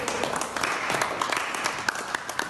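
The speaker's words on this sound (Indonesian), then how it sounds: "kita beri aplaus untuk kelompok 1" A classroom audience applauds a student group, a modest burst of scattered hand claps heard at moderate distance.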